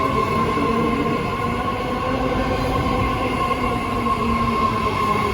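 A new ten-car, three-door BART Blue Line train pulls away from Bayfair Station platform 1, a loud, steady rumble with whining motor tones and rail hum heard from inside, continuous and without talk.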